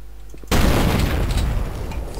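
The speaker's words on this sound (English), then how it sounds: "Shoot out your window with my gun." A gun fires in the video game Duke Nukem 3D to shoot out a burning window, a sudden loud blast followed by a sustained roaring, crackling rumble with no talk.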